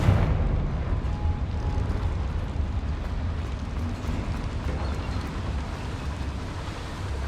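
A Confringo fire spell blasts inside a small mine in Hogwarts Legacy, a loud, sustained rumbling roar of explosion that fills the whole stretch with dense noise and slowly settles without fading out.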